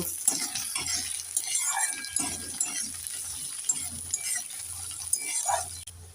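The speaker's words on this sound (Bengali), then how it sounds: "এবার দিয়ে দেব কেটে রাখা টমেটো আর কাঁচা লঙ্কা একটু নেড়ে চেড়ে দিয়ে দেব" Tomato and green chili are stirred into fried onion in a pan, giving irregular soft scraping and clinking strokes with a faint wet sizzle, close and steady, with no talking.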